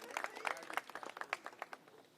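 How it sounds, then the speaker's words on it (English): Audience applause at a Tenderloin violence prevention community event, a scattered patter of claps from a modest crowd, fairly faint and steady throughout. "yeah, we can clap"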